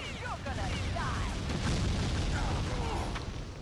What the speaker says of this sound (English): it's best to just throw some grenades now